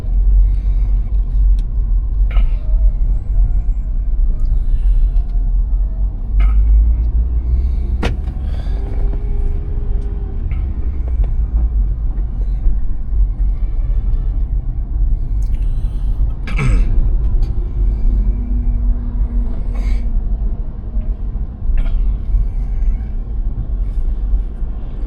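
Road traffic rumbles heard from inside a moving Hyundai i10 during a heavy morning rush, a steady low cabin drone with occasional louder passing vehicles and faint knocks over the span.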